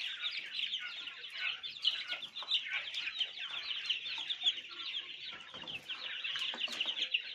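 Young chickens among quails in a home pen, dense continuous clucking and chirping from several birds, close and steady throughout, with no talking.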